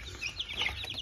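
Faint, high-pitched peeping from a group of young turkey poults, a quick cluster of thin chirps over a brief moment.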